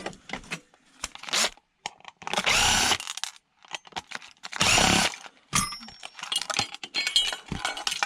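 A power tool whirs in several bursts as a heat sink is taken off a scrap circuit board, with clicks and small metallic handling noises in between and no talking.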